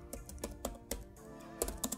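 Keys clack on a computer keyboard as a command is typed, a quick irregular run of close, crisp taps with short pauses, no voices.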